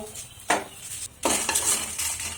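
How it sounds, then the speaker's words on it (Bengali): Dried chilies fry in a hot wok with a steady sizzle, broken by a couple of louder scraping stirs and metallic clinks of a spatula against the pan. "আগে লঙ্কাটা কড়ার মধ্যে ভেজে নেব।"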